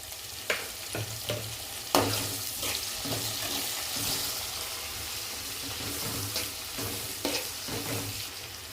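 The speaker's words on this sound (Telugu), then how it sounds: "టమాటా కూడా కొద్దిగా వేగాలి. ఇవి బాగా వేగిపోతున్నాయి." Tomatoes fry in a pan for chicken curry, giving a soft continuous sizzle with several scraping stir strokes and clinks at irregular intervals, fairly quiet and with no talk.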